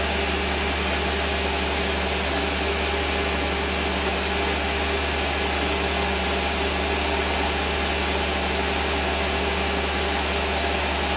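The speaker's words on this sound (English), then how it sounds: "I'm going to drill it right through." A Warco WM180 lathe drilling with a 5.8 mm drill bit, its motor giving a steady, loud mechanical whine and hum that holds unbroken throughout, with no voices.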